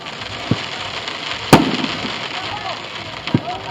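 Distant fireworks at an outdoor jubilee show, with three separate bursts: a faint thump early, a loud sharp crack with a brief crackling tail near the middle, and another softer pop near the end, all under steady crowd noise and nearby talking.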